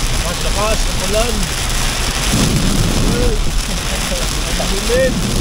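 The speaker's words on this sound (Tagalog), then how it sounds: "Lakas ang ulan." Dense, heavy rain pours steadily with a deep rumbling undertone in darkness, while voices talk intermittently in Filipino over the downpour.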